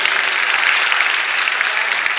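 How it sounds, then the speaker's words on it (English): Dense, steady audience applause at a community kickoff event fills the whole span, loud and close with no pauses. "Let's have a round of applause."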